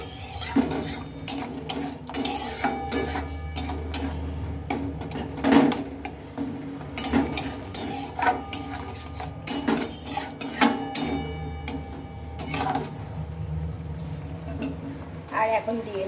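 A spoon scrapes and clinks around a pan as a spice mixture is stirred together with tomato sauce for a raw cauliflower dhoka, the close, irregular scraping strokes running steadily throughout.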